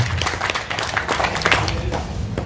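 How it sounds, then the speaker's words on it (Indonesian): Crowd applause in a full room, dense steady clapping with some crowd murmur and a voice mixed underneath. "Tepuk tangan buat Bapak Ibu semua"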